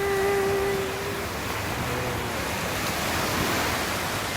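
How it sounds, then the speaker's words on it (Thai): Ocean waves wash steadily onto a beach, a continuous broad roar of surf with no voices. "หาดกว้างมากชอบแล้วก็ดู น้ำทะเลเสียงคลื่น"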